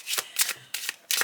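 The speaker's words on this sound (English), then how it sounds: "shuffle, cut, and restack the cards" Reiki oracle deck cards shuffled by hand, giving three crisp riffling bursts with short pauses between them, close and fairly loud.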